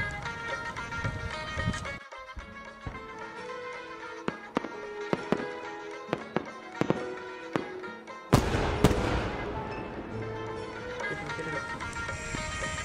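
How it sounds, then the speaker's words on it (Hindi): Celebratory gunfire on New Year, sharp scattered cracks at irregular intervals over a steady music-like background, followed by a louder burst, fairly distant. "ये खुशी के मारे गोलियां चला रहे हैं"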